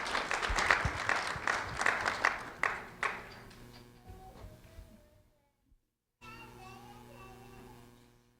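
Audience applause for a fifth-grade student at a school recognition ceremony in Fort Myers: dense, lively clapping for about four seconds that thins out and fades into near silence, followed by a faint, quiet room tone.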